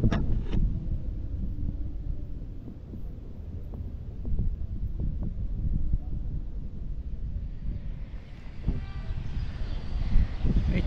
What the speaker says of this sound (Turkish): Rüzgar çok geliyor karşıdan